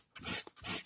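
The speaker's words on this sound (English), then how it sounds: "You could really go to town with sanding certain areas more than others as well." Sandpaper rubs across a stencilled wood panel in two quick, close, rasping strokes, each a short burst of scratchy friction with a brief pause between them.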